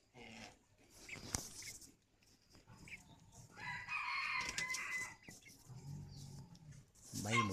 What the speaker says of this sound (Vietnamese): Đây là những chú gà rừng.